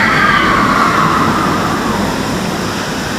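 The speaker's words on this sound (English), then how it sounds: "I was hoping to give you guys a little bit of train footage. This train is really scenic." A scenic train at Busch Gardens Williamsburg theme park rolls past with a loud, continuous rumble and rushing roar that stays steady throughout, with no talking.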